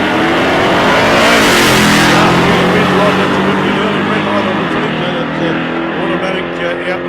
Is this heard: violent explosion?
no